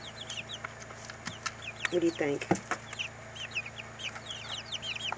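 A young Barred Rock chicken clucks and chirps close by, soft repeated calls, while a person speaks briefly over them.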